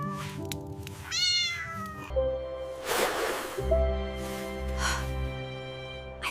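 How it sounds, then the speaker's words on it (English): A tiny kitten gives a few thin, high meows early on, then faint mews over a low steady hum and soft rustling, fairly quiet and close. "it is just a tiny kitten."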